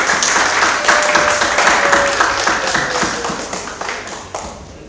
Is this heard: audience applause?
yes